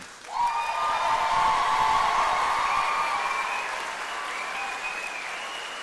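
A large audience at a school graduation ceremony applauds steadily, a dense wash of clapping that holds for several seconds and then eases slightly, with faint whistles or cheers above it.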